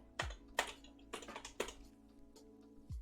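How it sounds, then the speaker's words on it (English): Fingers type on a computer keyboard in a text editor, a few crisp, close keystrokes at uneven intervals with short pauses between them and no voices. "and I'm gonna start typing."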